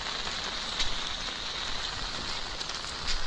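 Heavy rainfall in St Mary on a chicken farm: a constant, dense hiss of rain pattering on surfaces, steady and close throughout with occasional slightly louder spatters.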